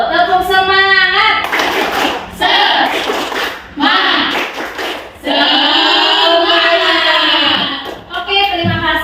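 A group, likely schoolchildren in a classroom, performing a rhythmic 'tepuk semangat' clap chant, with loud, continuous chanted voices over patterned clapping that pauses briefly between phrases, close and energetic.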